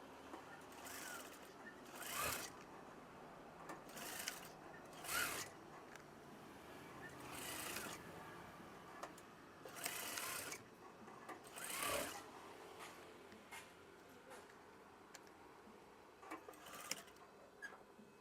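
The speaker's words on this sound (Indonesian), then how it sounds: "Jahit dari awal hingga akhir hingga selesai" Sewing machine stitching lace trim onto a wave-style curtain, running in repeated bursts of rapid mechanical whirring with short pauses between, close and fairly quiet, no talk over it.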